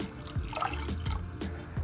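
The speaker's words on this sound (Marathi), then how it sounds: "आपण इथं कडेवरून पाणी घालणार आहोत" Water is poured from a small vessel down the side of a pot of vegetable manchow soup, splashing and dripping in a few short, close bursts.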